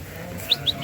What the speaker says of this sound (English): And when it comes to getting the sheep in, Bob always hangs back